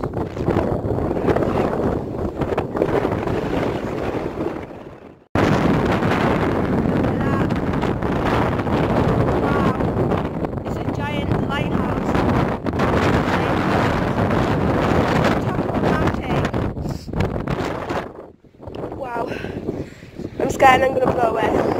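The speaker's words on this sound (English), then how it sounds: "It's so windy" Strong gusty wind roars across the microphone at the top of the Hoad Monument in Ulverston, England, a loud, continuous buffeting that drops out briefly twice, with a person talking underneath.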